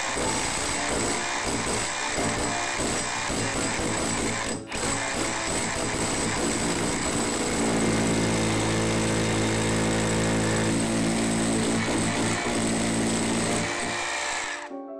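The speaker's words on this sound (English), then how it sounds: "we carefully drill into the wall" An SDS-plus hammer drill runs continuously for about fifteen seconds, a loud rattling, grinding churn as it bores into a masonry wall, with one brief stutter partway through.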